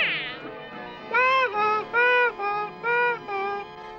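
A cartoon cat in a Smurfs episode gives a string of about six bright, tonal meows in quick succession, loud and close, after a brief whistling sweep at the start.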